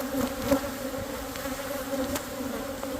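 Bees buzz steadily at close range, a continuous droning hum with occasional louder passes, and no talking.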